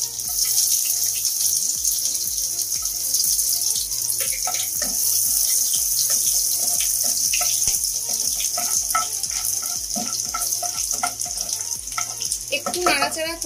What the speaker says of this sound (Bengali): প্রথমেই তেলে আমি রসুন কুচি